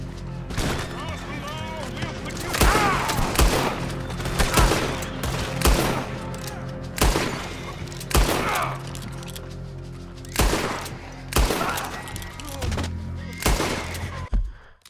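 Repeated sharp gunshots and scattered volleys in the Western video game Red Dead Redemption 2, loud and close, fired in irregular clusters over a rumbling background, with voices talking over the shooting.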